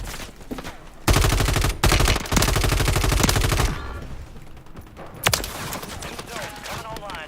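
Rapid bursts of automatic gunfire from a Uzi submachine gun in Call of Duty Warzone, loud and close with sharp repeated shots, broken by short gaps and followed by quieter scattered fire and game ambience.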